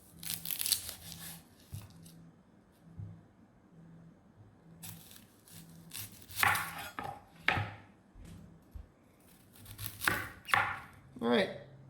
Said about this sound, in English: Halve, peel, and thinly slice the onion.